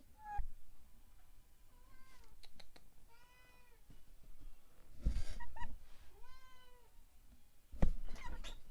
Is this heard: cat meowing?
yes